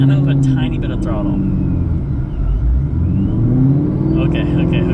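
A 1,200-horsepower Shelby GT500 Mustang with a manual gearbox rumbles and revs close by as it pulls away gently on light throttle, with people talking throughout inside the car.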